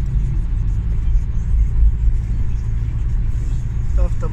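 A car cruises along a German autobahn toward Hamburg, with heavy low road rumble and engine drone filling the cabin while people talk over it.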